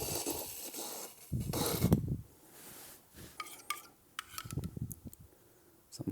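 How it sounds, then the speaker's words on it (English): Sweetbread with potato espuma being plated into a bowl: quiet scraping and scooping with occasional sharp clinks of utensil on dishware, close and fairly soft, with no talking. "Now, I'm gonna plate this up in a bowl."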